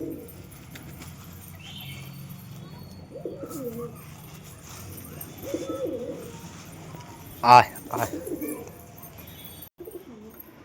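Soft coos come from pet pigeons in a loft, heard in short phrases against a quiet background. A man calls to the birds in between, and there are a few brief bumps and rustles.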